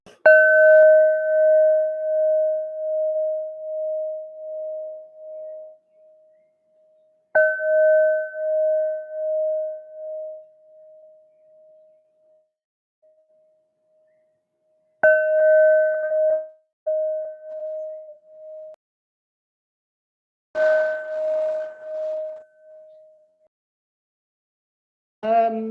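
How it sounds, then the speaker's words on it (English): Bell tones ring out four times, each a clear sustained ding with a slow decay, struck several seconds apart in a quiet room during a personal reading, with no talking over them. "Bells. What are we getting with your bells?"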